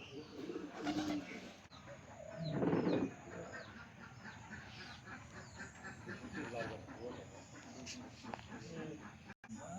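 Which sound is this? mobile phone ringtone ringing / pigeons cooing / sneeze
pigeons cooing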